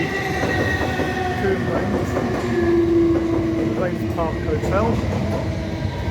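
A train running through Raynes Park station, heard from the footbridge as a loud steady rumble with clattering wheels and faint squeals, while a person talks over it.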